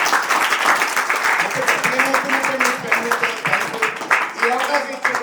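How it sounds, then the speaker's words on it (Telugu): A college audience at a film promotion event claps loudly in a dense, sustained burst of applause, with a voice speaking over the clapping through much of it. "ఒకసారి గట్టిగా క్లాప్స్ కొట్టి వస్తున్నట్టు"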